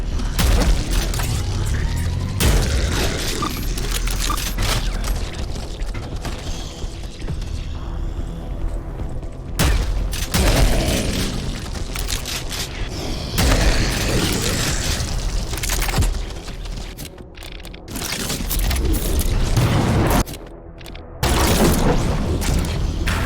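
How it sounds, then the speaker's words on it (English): Heavy, continuous booming blasts from a grenade launcher in the first-person shooter Prodeus, dense and loud with layered mechanical clatter and rumbling explosions, no talking. "Oh, this is a grenade launcher."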